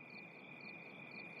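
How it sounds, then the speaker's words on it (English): Crickets chirp as a comedic sound effect of silence, a steady high continuous trill, faint and unbroken, with no voices. "Crickets!"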